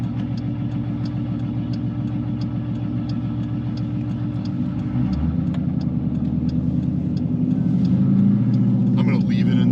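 Built Jeep Grand Cherokee Trackhawk engine running on a dyno in second gear, a loud close rumbling drone that climbs steadily in pitch as revs build, with a person talking over it.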